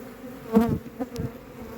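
Honey bees buzz at a hive, a brief, faint hum with a slightly louder pass lasting about a second.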